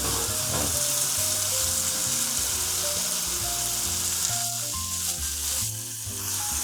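A ribeye steak frying in a pan, a dense, continuous close sizzle of spitting fat with a few faint clinks, steady and loud throughout with no talking.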